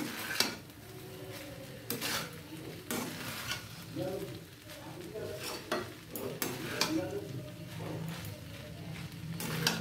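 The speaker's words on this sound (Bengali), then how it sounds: "একটু নাড়াচাড়া করে নিয়ে" Milk pulao being stirred in a cooking pot, with repeated scraping and clinking of a spoon against the metal, soft sizzling beneath, and a few sharper knocks spaced through the stir.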